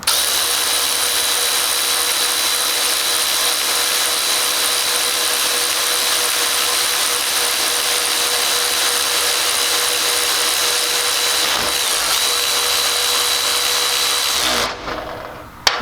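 Milwaukee M12 Fuel 3/8-inch and Snap-on cordless ratchets run together in a steady, loud whirring motor drone that holds for about fourteen seconds before cutting off, with no voices.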